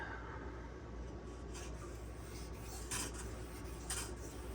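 A Spyderco Sage 5 knife with a Rex121 steel blade is stroked against a sharpening stone, making soft, repeated rasping scrapes close by over a low steady background hum.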